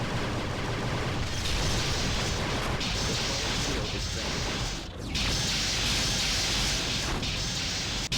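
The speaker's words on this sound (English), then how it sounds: "those phasers are certainly more powerful" A Klingon Bird of Prey fires phasers in a Star Trek starship battle game, a dense, loud roaring barrage of blasts and crashes running continuously with a brief dip near the middle.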